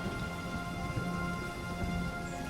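Icy rain in an animated Hindi story pours down steadily, a loud even hiss of heavy rainfall with a low rumble underneath and no voices.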